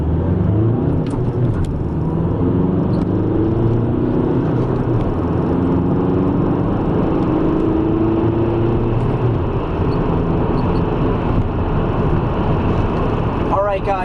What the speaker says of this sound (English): This is my first 0 to 60 on the stock tune, so let's see how it does.